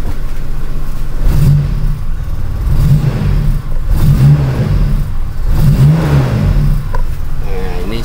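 A motorcycle engine running on a TCI ignition with freshly set points gap revs up loudly in several repeated bursts, close by, with some talk mixed in.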